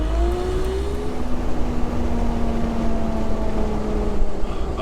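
A Jeep TJ Wrangler with a swapped-in TDI diesel engine drones steadily at highway speed, a continuous loud cabin rumble with a slowly falling whine and road noise throughout.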